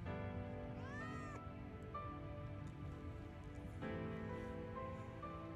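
A cat in the video game Final Fantasy VII Rebirth gives a couple of short, rising meows over quiet game ambience and soft rain-like background sound.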